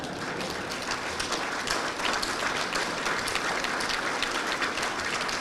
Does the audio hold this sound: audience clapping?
yes